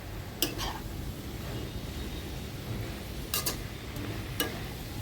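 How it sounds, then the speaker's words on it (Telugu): Curry stirred in a pan after salt goes in, with a steady sizzling simmer throughout and a few sharp clinks of the spoon against the pan. "కొద్దిగా సాల్ట్ వేసి మళ్ళీ కలిపాను ఒకసారి."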